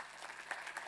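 Faint, brief clapping from a small audience after a speaker at a talk on changing streets, a scattered patter of hands lasting under a second.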